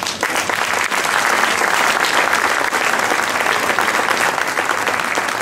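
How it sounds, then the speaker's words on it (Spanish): A festival crowd at a flamenco cante night applauds a singer, loud and sustained clapping throughout with no voices over it. "Así que, fuerte aplauso."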